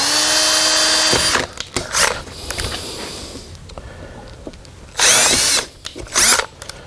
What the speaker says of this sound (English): So I drill all these out.